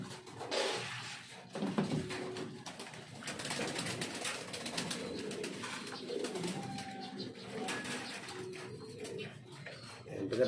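Pigeons coo softly while being fed near a home, with wing flutters and light clattering mixed in, moderately close under a faint background hum.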